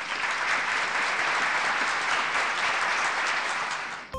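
Sustained, even applause from a large audience at a celebration of Sikkim's organic movement, a steady loud wash of many hands clapping that cuts off abruptly at the end.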